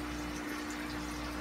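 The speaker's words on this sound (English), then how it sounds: "I'm going to be able to come back here and stop this water flow" Water rushes steadily during an aquarium water change in a home garage, a continuous close hiss with a low pump-like hum and no pauses.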